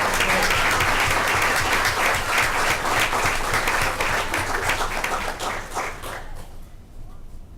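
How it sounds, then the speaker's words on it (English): A school board meeting audience claps in sustained applause for students, loud and dense at first, then thinning out and fading away toward the end. "if we can all have a round of applause once again for our RBC Students of the Month"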